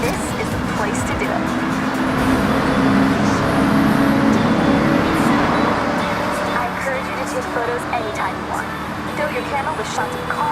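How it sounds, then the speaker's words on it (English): A video game car engine roars inside a long road tunnel in Japan, a loud, continuous reverberant drone of motor and road noise that stays steady before easing slightly, with a voice talking over it. "The acoustics of these long routed tunnels capture the reflected sound of anything inside and throw it right back at you, creating a cacophony of sound."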